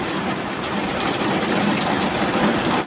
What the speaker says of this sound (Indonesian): Hujannya gede bre, hujannya gede.